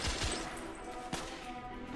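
Enemy gunfire in the video game The Order: 1886 rattles in dense, overlapping bursts, with a sharper shot cracking out near the middle, heavy and continuous but fairly quiet overall.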